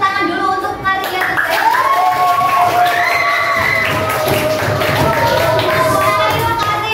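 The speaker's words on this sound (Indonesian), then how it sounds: "Sekarang anak-anak tepuk tangan dulu untuk kalian." Schoolchildren in a classroom clap their hands together in a lively burst, mixed with cheering and shouting voices, while a teacher speaks over the noise.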